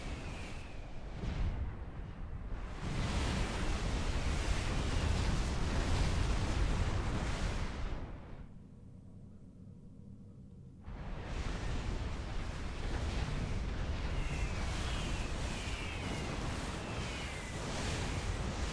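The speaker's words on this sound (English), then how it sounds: "Pretty good bombing run there." Heavy explosions rumble from a bombing run in the real-time strategy game Supreme Commander 2, a dense roaring wall of blasts with a brief lull in the middle before the booming resumes, loud and sustained.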